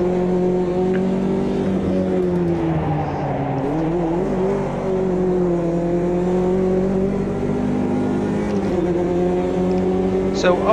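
A race car engine in the Automobilista 2 racing game drones loudly and steadily, its pitch dipping and rising through gear changes and revs for about eleven seconds, with no voices over it.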